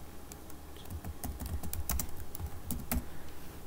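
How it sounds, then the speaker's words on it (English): A computer keyboard is typed on in a quick, close run of irregular key clicks as a name is entered, steady throughout with no voices. "here you will type your name."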